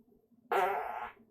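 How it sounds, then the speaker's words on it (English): A single fart of about three-quarters of a second sounds on its own, with a sharp onset and a buzzing, fairly loud tone during a quiet moment of a live stream. "Enjoy that fart."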